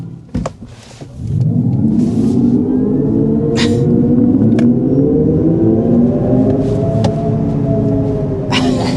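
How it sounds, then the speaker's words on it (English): A 2024 Hyundai IONIQ 6 electric car under hard acceleration: a steady, loud whirring motor hum climbs gradually in pitch over several seconds, with faint clicks and a short bump before it starts. "start by giving you a hard acceleration and seeing how fast this new IONIQ 6 is"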